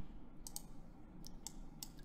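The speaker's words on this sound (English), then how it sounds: "we click right-click" A computer mouse clicking at a desk, a few sharp faint clicks spaced irregularly over a low background hum, no speech.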